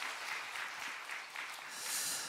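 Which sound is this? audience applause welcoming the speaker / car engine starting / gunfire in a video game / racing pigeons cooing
audience applause welcoming the speaker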